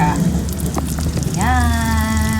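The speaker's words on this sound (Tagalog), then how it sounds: "prito na natin yung ating lumpiang langka" Jackfruit spring rolls sizzle and crackle steadily in hot oil, and a voice briefly joins partway through.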